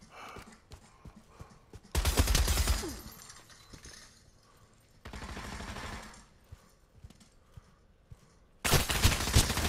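Rapid automatic gunfire bursts from the VR shooter Pavlov, three loud volleys around two, five and nine seconds, separated by quieter stretches of faint game noise and scattered single shots.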